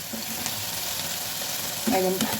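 Tomato and vegetables stir-frying for noodles in a pan, a steady sizzle with soft scraping stirs and a louder clatter of the utensil near the end.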